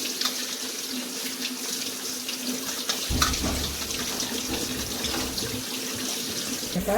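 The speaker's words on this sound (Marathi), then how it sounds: "स्वच्छ पाण्याने चांगले धुवून घ्यायचे." Tap water pours steadily through flattened rice (poha) held in a sieve, a close, continuous hiss and splash as the rice is rinsed clean.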